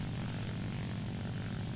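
WW2 U.S. propeller fighter plane in War Thunder, its piston engine droning in a dense, steady, low rumble with a buzzing propeller edge, constant and unbroken without speech.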